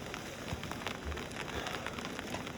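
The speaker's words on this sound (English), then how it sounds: "just started raining, and I got the rain fly on the tent" Rain patters steadily on a tent's rain fly and a covered motorcycle at a Sierra campsite, a dense close crackle of scattered drops with no talking.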